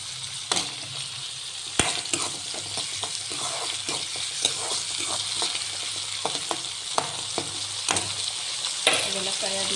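Chopped onion, curry leaves and tomato sizzle steadily in a hot pan of oil, with a spoon scraping and clinking against the metal at irregular intervals, up close and continuous with no talk.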